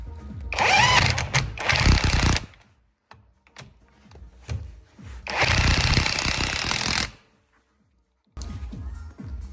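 An impact wrench drives the 19 mm top bolt on an MTS Street coilover strut for a BMW in loud, close bursts, separated by pauses with faint handling noises.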